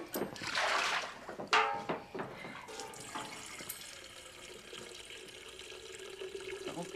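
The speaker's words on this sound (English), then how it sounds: "Pour the water, Mordecai, before it gets cold." Water splashing and pouring into a bath in an old Western bathhouse, with a loud burst at first, then softer gurgling and trickling that settles into a quieter flow, with no talk.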